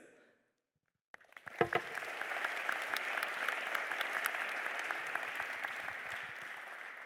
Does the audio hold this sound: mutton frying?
no